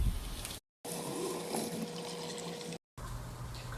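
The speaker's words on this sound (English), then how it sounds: "We're going to strain the water." Water from a pot of boiled potatoes pours out through a strainer, a steady close gush and splash with a faint hum beneath, broken by two short gaps.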